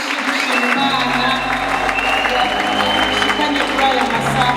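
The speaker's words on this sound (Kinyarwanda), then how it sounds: "reka no muri muzima uyakome twongere kw'impundu nyinshi dushima Imana" An audience at a film launch applauds loudly and continuously, with sustained high ululation rising over the clapping throughout.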